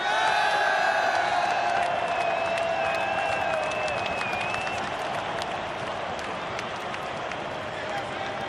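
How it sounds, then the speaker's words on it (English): Large stadium crowd at a 2005 World Cup qualifier between Australia and Uruguay roars with sustained applause and cheering, a dense, loud wash of clapping and shouts with a few whistles, fading slightly but continuing throughout. "once more a huge applause for these guys."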